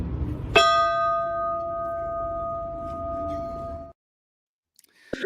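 A small hand bell is struck once and rings with a clear, sustained metallic tone that decays over about three seconds before cutting off, against a faint background hum.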